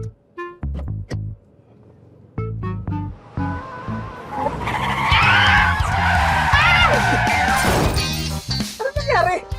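A car pulls away in a comedy sketch, its engine rising and tires skidding loudly through the middle of the clip, with brief voices and knocks before it and a scuffle of noise afterward.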